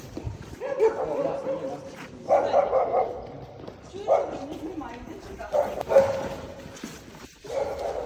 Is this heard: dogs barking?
yes